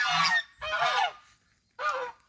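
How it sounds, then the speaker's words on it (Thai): Farm geese honking close by in three loud bursts of harsh, nasal calls with short pauses between them. "มีห่านมีไก่"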